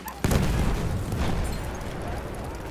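In a Battlefield match, a grenade goes off with a sudden loud boom, followed by a long rumbling roar that slowly fades under battlefield ambience.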